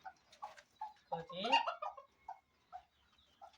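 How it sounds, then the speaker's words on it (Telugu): Small chickens on a farm in Wafra, Kuwait, cluck in a string of short, close calls, with a brief louder burst of overlapping squawks in the middle. "ఇవన్నీ బుడ్డ కోళ్ళు బాగున్నాయి చూడడానికి"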